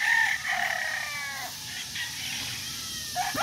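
A Kelso gamefowl rooster crows close by on a farm, one clear drawn-out call with a fading tail, followed by a brief second call near the end.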